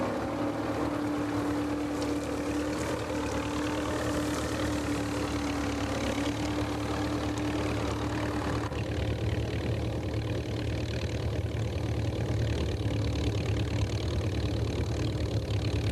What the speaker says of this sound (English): This is a TVO tractor, and the driver is really getting on with the work here.